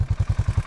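A motorcycle engine chugs in a steady, rapid thumping rhythm while the bike breaks trail through crusty, deep snow, loud and close with no talk.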